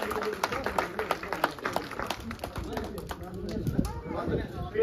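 Villagers in Sungarpur clap to welcome Kiran Choudhry at a turban-honouring ceremony, with scattered, uneven claps continuing through the clip under murmuring voices and a nearby announcer.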